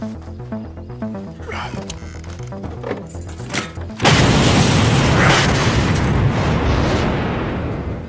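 A sudden loud explosion of a camper van bursts in after a stretch of quieter sound, followed by a long roaring rumble that slowly fades.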